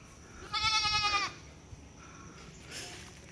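A goat on a small farm gives one loud, wavering bleat, followed by quieter, fainter bleats a moment later, with soft background noise between them.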